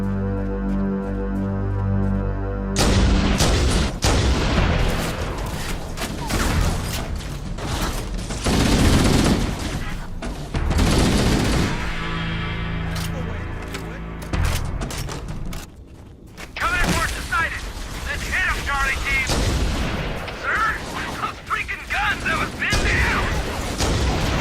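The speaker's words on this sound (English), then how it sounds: "Don't open fire until you hear the enemy return fire on us." Bursts of weapon fire and explosions from a firefight in the video game Halo: Combat Evolved, loud and repeated throughout, with voices talking over the battle.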